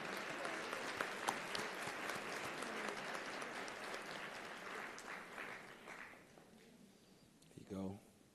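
Sustained audience applause fills a convocation hall as nursing graduates receive their pins, steady and crowd-wide for several seconds before fading, with a brief voice near the end.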